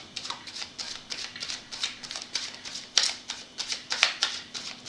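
Tarot cards shuffled and drawn by hand in a steady run of soft riffling bursts and flicks, close and fairly quiet, with sharper card snaps near the end and no voice.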